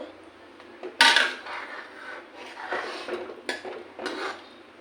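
Leafy greens cooking in a pot are stirred with a metal utensil, giving a series of loud scraping clanks and rattles against the pot, several distinct strokes at close range.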